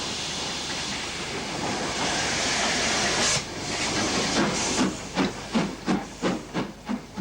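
British Railways Pacific steam locomotive from the 1960s, grimy from service. A steady hiss of steam gives way to about eight distinct exhaust chuffs that grow sharper and quicken slightly, close by with no voices.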